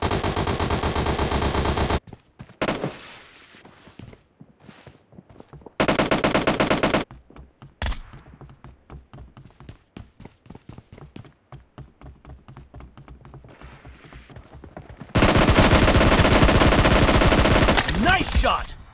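Gunfire in a video game crackles in bursts: long, dense, loud automatic volleys broken by rapid single shots and short gaps, close and harsh with no talk.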